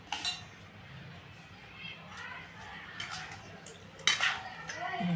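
Cashews, almonds and grated coconut being stirred together in a bowl, with steady scraping and soft clinks against the dish and a sharper clatter near the end; a faint voice is present in places.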